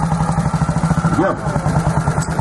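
An old Motobécane 350 motorcycle engine idles with a steady, rapid thumping pulse, close by, while a voice speaks briefly over it.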